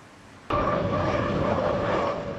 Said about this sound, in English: That's the sound of hydro boats hitting the waters of the Detroit River.